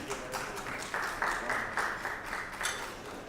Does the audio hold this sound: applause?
yes